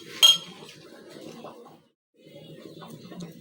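Chicken tossed by hand with chili powder and salt in a bowl: a sharp clink near the start, then steady soft mixing and scraping, a short pause, and the mixing resumes.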